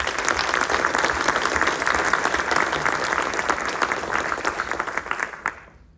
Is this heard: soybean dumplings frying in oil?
no